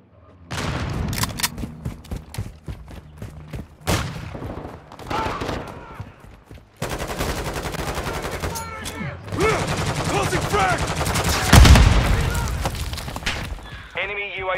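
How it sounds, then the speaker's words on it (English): Call of Duty: Modern Warfare II gunfire: repeated loud rifle bursts and rapid automatic fire, close and sustained, mixed with thuds and shattering, with in-game voices calling out over the action. "Taking effective fire!"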